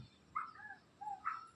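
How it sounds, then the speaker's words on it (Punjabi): A bird sings outdoors in a few short, thin chirping phrases, faint and spaced apart over a quiet background. "ਪੰਛੀ ਬੋਲਦਾ ਕਿੰਨਾ ਸੋਹਣਾ ਬੋਲਦਾ"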